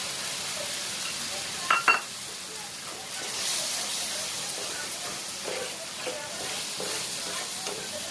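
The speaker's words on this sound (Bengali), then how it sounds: "মশলাটা আমরা কষিয়ে নেব 1 থেকে 2 মিনিটের মতন" Masala frying in a pan after a paste of poppy seeds, melon seeds and cashews is added: a steady soft sizzle with occasional stirring scrapes and a couple of sharper clinks, moderately close, with no talking.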